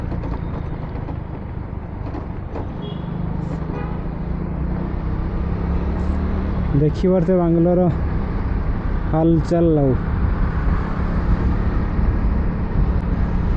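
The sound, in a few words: heavy road traffic in Bangalore, Koramangala side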